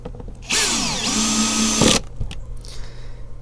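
A power drill drives screws into the door panel of a Lexus RX350, one loud, close whirring burst of about one and a half seconds with pitch shifts, followed by a clunk and quiet handling noises.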